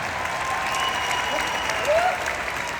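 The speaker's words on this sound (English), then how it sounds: "give her a round of applause" An audience at a large convention stage event applauds steadily, a dense wash of clapping with faint voices and a brief whistle in the crowd.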